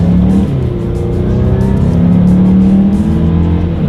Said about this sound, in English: Let's do a quick little acceleration in the new 2019 CX-5 with the new engine, and let's see how quickly we can get this one here up to speed.